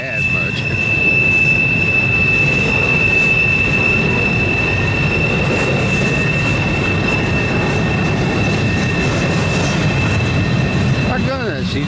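A long freight train made up of empty cars rolls steadily past on a curve near Mance, Pennsylvania, with a continuous loud rumble of wheels and a sustained high wheel squeal throughout, and some faint talk underneath.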